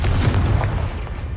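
A Confringo fire spell explodes in Hogwarts Legacy with a loud, booming blast up close, its rumbling roar fading slowly away.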